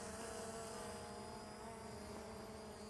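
A GT8 drone flies and hovers outdoors, giving a steady, faint whirring hum with tonal propeller whine that holds constant throughout with no talk.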